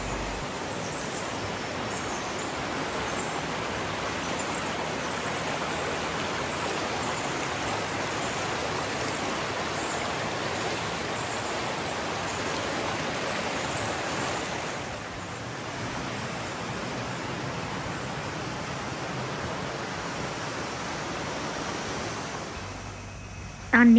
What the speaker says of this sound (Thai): เราจะได้ยินเสียงน้ำไหลแรงมากๆเลยค่ะ